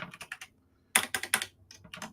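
Rapid clacking of keys on a computer keyboard, arriving in two short bursts of typing with a brief pause between, close and fairly crisp with no voices.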